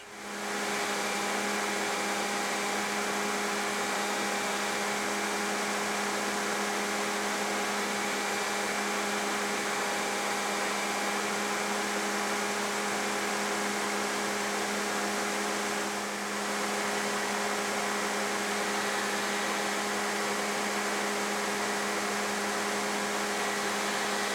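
A belt grinder blends the steel of a hori-hori gardening knife on the slack part of the belt, a loud, steady whirring drone with constant abrasive hiss, nearly unbroken, with no voices.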